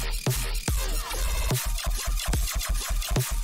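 A dubstep drop hits with heavy, pounding bass blasts and dense, gritty full-range synth noise, sharp rhythmic hits repeating every half second or so, loud and continuous with no voices.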